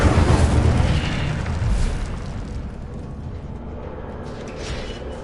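The Incendio fire spell blasts in Hogwarts Legacy, a loud burst of fiery whooshing that opens with a deep boom and fades into a low rumbling roar.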